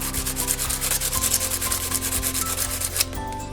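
A cloth rubs briskly over a hammered copper bracelet to polish it, producing rapid rhythmic scrubbing strokes, close and fairly loud, with no speech.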